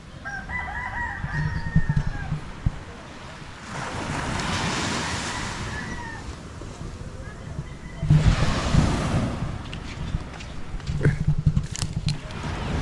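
Surf washing in along a seashore in the late afternoon, with wind and loud swelling bursts of breaking waves; a rooster crows intermittently in the background.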